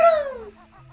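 A chirpy, clucking bird call from the Banjo-Tooie video game: one falling squawk up front, then a few soft faint chirps trailing off, close and clear.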